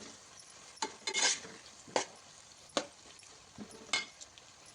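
Ivy gourd poriyal is stirred in a pan with a spatula: several separate scraping strokes and light clinks, faint and spaced apart, with no talk.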